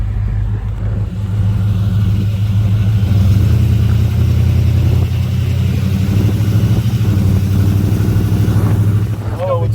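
A 1948 Chevrolet convertible with a 5.7L engine and 700R4 transmission cruises at just over 2,000 RPM, a loud steady low engine drone under ongoing conversation inside the car.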